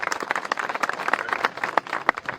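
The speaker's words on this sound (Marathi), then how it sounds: "त्यांच्यासाठी एकदा जोरदार टाळ्या वाजवल्या पाहिजे." A crowd of devotees at Raigad fort claps for pilgrims who climbed on foot, with uneven, spirited hand claps and sharp individual slaps popping out of the nearby crowd.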